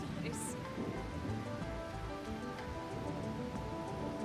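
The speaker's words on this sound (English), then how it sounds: "Yeah, rain!" Steady rain falls in the Trails Beyond the Horizon video game, a dense continuous patter with a brief high chime near the start and no talking.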